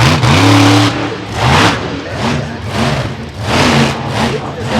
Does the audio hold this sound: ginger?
no